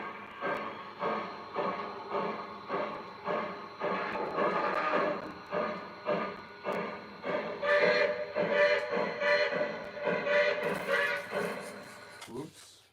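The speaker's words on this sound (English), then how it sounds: "we're gonna end the night with Lionel trains running on the tracks." Lionel model trains run on the tracks, a close, steady, rhythmic clatter of wheels over rail joints repeating roughly twice a second, with a brief rattling scrape at the end.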